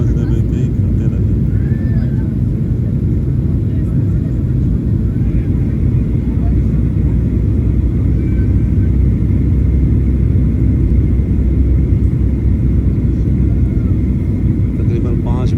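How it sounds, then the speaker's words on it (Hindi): Airliner cabin during the descent toward Istanbul, a loud, steady engine and airflow rumble that stays constant from start to finish. "जहाज आहिस्ता आहिस्ता नीचे जा रहा है अब।"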